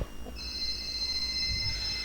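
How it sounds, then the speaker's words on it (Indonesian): Telephone ringing as a steady high electronic tone that starts shortly in and holds for over a second, moderately loud over faint background noise, with no talk. "Wah, ada siapa ya yang telepon?"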